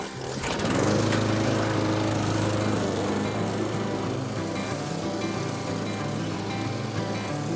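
A lawn mower cuts phacelia in an autumn garden, its engine starting up and then running in a loud, steady drone with a shifting low hum throughout.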